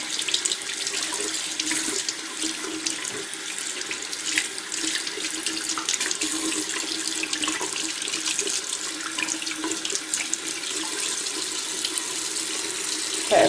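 Cold and hot tap water runs steadily from a faucet into a sink while brushes are rinsed, a constant close splashing hiss with no talk throughout.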